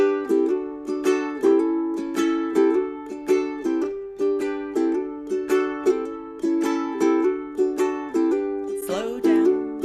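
Fast, bright ukulele strumming in a bouncy swing rhythm, steady chord strokes repeating closely with no voice, ending in a quick scraping flourish.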